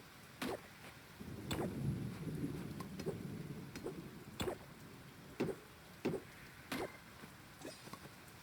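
Rain falls on a farm in the Fields of Mistria video game: faint, steady patter with scattered, sharper drips landing irregularly throughout.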